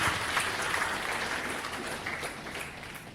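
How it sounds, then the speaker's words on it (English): An audience applauds at a gathering, a steady dense round of clapping that tapers slightly by the end. "A round of applause, please."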